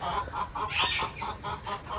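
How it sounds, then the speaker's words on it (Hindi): A chicken clucks loudly and repeatedly nearby, a rapid run of agitated squawking calls with no talking. "मुर्गी ने शोर मचाया हुआ था"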